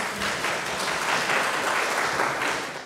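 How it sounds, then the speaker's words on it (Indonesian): A church congregation claps together in a steady, dense round of applause that carries on evenly for a few seconds, fairly close and without talk. "Kita berikan tepuk tangan untuk mereka."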